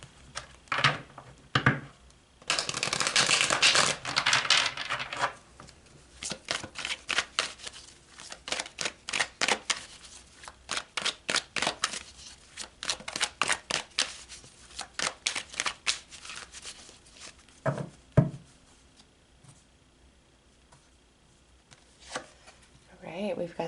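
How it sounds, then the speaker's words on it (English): Tarot cards being shuffled and pulled from the deck, a close crisp riffling burst followed by rapid rhythmic card flicks and snaps, then scattered single card slaps, with no talk. "So let's pull some more cards."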